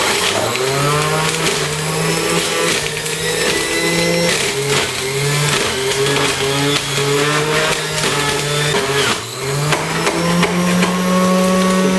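Juicer motor running while juicing apple and kale, a loud continuous whirring drone with shifting grinding tones over twelve seconds, close and alone.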